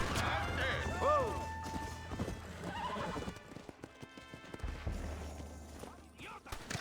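Hooves clip-clop steadily as a horse gallops in the Red Dead Redemption video game, with a loud whinny cutting in early over thick game music and ambient noise.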